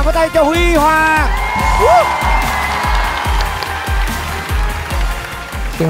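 A studio audience at a televised memory competition breaks into applause and whoops for contestant Huy Hoàng, loud and sustained under a bright musical sting, with steady rhythmic beats running underneath.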